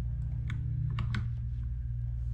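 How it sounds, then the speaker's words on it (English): Clacky keystrokes on a noisy computer keyboard, a few sparse, separate taps over a steady low hum, fairly close and moderately quiet. "Let me use my keyboard that doesn't make all the noise because I know that bothers some people"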